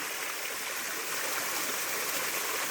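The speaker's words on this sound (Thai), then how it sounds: "จะเป็นลักษณะ ของลำธารน้ำไหลเล็ก ๆ" Continuous bright rush of a small forest stream flowing over stones near Krok Ma Tai Waterfall, Khao Phai, Pattaya, steady and close, with no voices.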